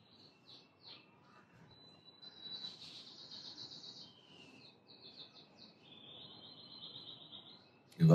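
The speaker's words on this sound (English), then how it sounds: "Birds are beautiful. Sounds of birds." Birds chirp and trill outdoors in short, thin bursts, fairly faint over a quiet background with a low hum, and a sudden loud knock at the very end.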